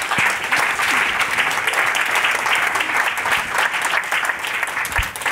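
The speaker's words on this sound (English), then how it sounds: "I'd like a round of applause for our panel." Steady, full applause from a conference audience honoring a panel on criminal justice data, dense crowd clapping held evenly throughout at close range with no speech over it.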